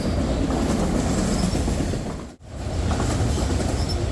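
A CSX freight train led by SD70ACE locomotives rolls past close by in a loud continuous rush with clickety-clack wheel beats and faint squeals, briefly dipping in level before resuming.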